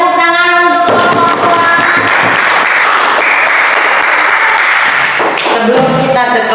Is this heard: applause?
yes